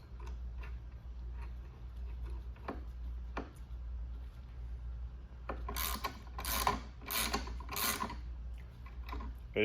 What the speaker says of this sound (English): It's a Husky pass-through ratchet.